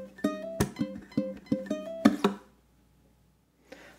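Single-note ukulele blues line plucked in a steady rhythm for about two seconds with light added percussion, then a brief pause and a faint soft tap near the end.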